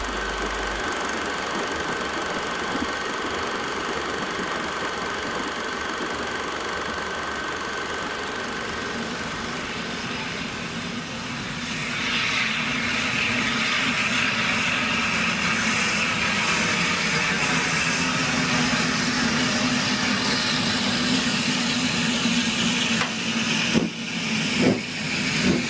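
A heritage railway train engine runs with a steady, heavy rumble and vibration that grows slightly louder partway through, continuous and close, with no talking.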